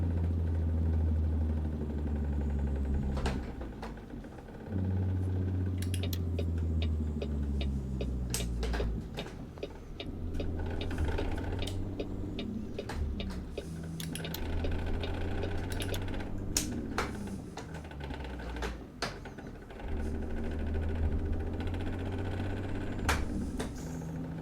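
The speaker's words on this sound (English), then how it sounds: "I want you to hear what the engine sounds like with the windows up" A Peterbilt 359 truck engine in the American Truck Simulator video game, heard from the cab with the windows up, gives a muffled, steady low drone that rises and falls in pitch as it runs through gear changes, with sharp clicks scattered throughout.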